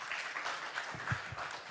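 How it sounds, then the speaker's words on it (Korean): Applause from a forum audience welcoming a professor to the stage at an international finance session, a steady, fairly faint wash of clapping across the whole stretch with no voices over it. "박수로 맞이해 주시기 바랍니다"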